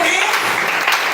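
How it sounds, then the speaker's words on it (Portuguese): Church congregation applauding, a brief burst of dense clapping with voices mixed in. "Pode aplaudir, pode aplaudir."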